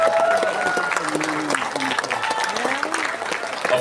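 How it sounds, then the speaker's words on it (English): An audience at a singing finals show applauds Darlon with steady, dense clapping under an announcer's voice. "Please give Darlon a big round of applause."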